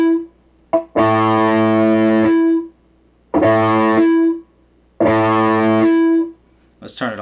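Electric guitar played through a Positive Grid Reactor 50 practice amp with its noise gate on: three loud, distorted sustained chords, each cutting off to near silence between them, then a brief scratchy strum at the end.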